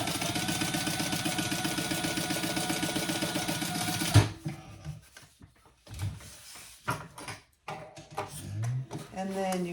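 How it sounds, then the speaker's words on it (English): A sewing machine top stitches a seam about 1/8 inch from the edge on a handbag. The steady, rapid mechanical hum runs for about four seconds, then stops. Quieter handling noises and brief talk follow. "I am going to just top stitch this seam at barely 1/8 of an inch."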